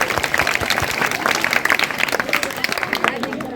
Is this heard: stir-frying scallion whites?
no